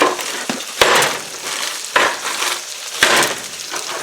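Frozen zucchini crackles and sizzles in a hot pan, a loud continuous fry broken by several sharp bursts as the pieces are stirred, with no voices over it.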